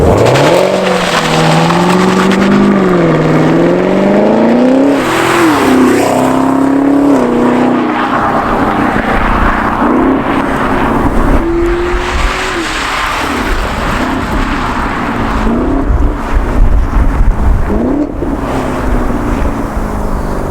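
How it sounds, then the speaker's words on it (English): Engine of a 2020 Chevy Camaro ZL1 1LE revving hard and loud outdoors, repeated rising and falling pitch sweeps of acceleration with a deep rumbling exhaust throughout. "when you revved it outside, it was super loud"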